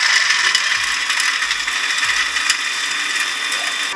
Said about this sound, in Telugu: సో మమ్మీ మిక్సీ చేస్తుంది దాన్ని.